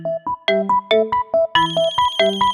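A mobile phone ringtone plays a bright, repeating melodic pattern of short tonal notes, loud and close, with no talking over it.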